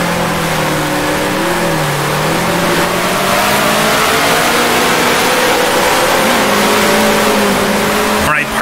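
A 1966 Formula One race car engine in the Grand Prix Legends game at the German Grand Prix drones loud and continuous, its pitch rising and falling gently through a long right-hand corner.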